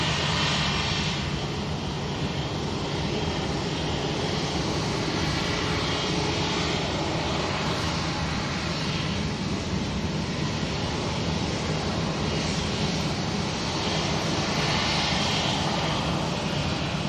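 Aircraft engines roar steadily at Manchester Airport as a Ryanair jet arrives from Rome, a loud continuous broadband rumble with slow swells, no voices over it.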